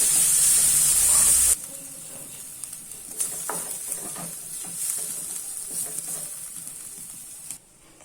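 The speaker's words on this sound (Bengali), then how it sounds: "সবজিটা ভাজা হয়ে গেছে।" Vegetables fry in a pan with a loud hissing sizzle that drops abruptly to a softer, steady crackle with scattered stirring scrapes and pops, close up and without talking.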